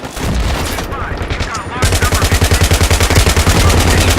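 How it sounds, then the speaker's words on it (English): Gunfire and explosions in the video game Battlefield 3: a loud burst of fire, then a dense rapid machine-gun volley with regular punchy shots, heavy and close throughout. "There's a lot of dynamics going on while you're firing at the end."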